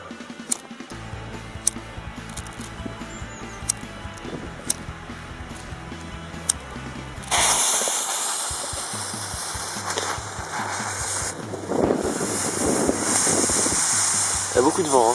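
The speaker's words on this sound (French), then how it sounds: "maintenant on va faire un fumigène vert." A green smoke bomb ignites outdoors in windy conditions, bursting into a loud, steady rushing hiss about halfway through after a quieter stretch with faint clicks.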